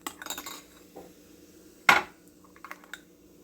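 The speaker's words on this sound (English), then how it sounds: "I'm just gonna wash my spoon." A spoon being washed in a kitchen while cooking cod fish stew: soft clinks and light scraping, then one sharp metallic clank near the middle and a few faint taps after, close and fairly quiet.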